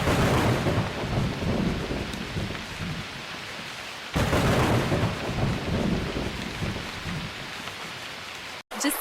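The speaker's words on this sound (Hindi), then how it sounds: "कुछ दिनों बाद जंगल में भारी बारिश हुई।" Heavy rain pours in a cartoon jungle while thunder rumbles, a loud, continuous downpour with a fresh crash partway through and a sudden cut near the end.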